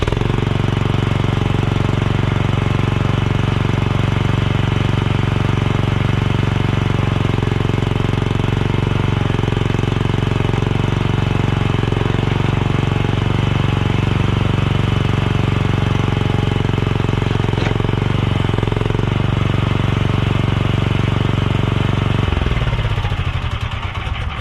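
A mini skid steer engine runs loud and close with a heavy, rapid clattering drone that holds steady, then winds down near the end.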